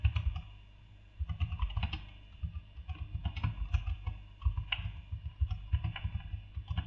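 Steady typing on a computer keyboard while entering a code comment, a brisk run of close key clicks with short pauses between words, without talk.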